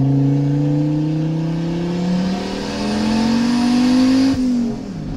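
A Fiat Marea Turbo car accelerating hard at night, its engine note climbing steadily through one long, loud pull before the revs drop sharply at the shift, heard close with no talk.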